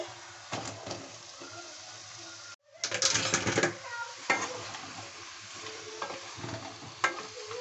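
Pumpkin pieces fried and stirred with spices in a pan without water, sizzling close by with rhythmic spatula scrapes and clanks, a brief quiet gap, then a louder burst of frying as stirring resumes.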